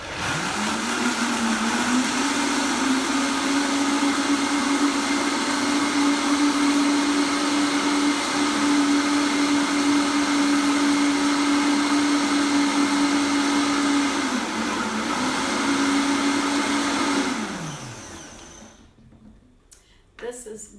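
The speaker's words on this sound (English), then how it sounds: "You will not get nuts and seeds and that ground so smoothly, so quickly without a high-powered blender like this" A high-powered blender grinds nuts and seeds with a loud, steady motor whine that runs continuously for about seventeen seconds, dips briefly partway through, then winds down and stops.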